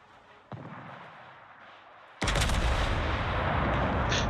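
Warship guns fire in the naval combat game World of Warships: a sharp onset at half a second, then a much louder, dense burst of gunfire that holds to the end, with no talk.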